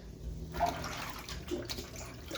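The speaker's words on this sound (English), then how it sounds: "I'm going to empty out this water and put fresh water for the spinach." Water used to wash spinach is emptied out of a basin into a sink, a faint gush and splash of liquid pouring that runs for a couple of seconds in a quiet kitchen.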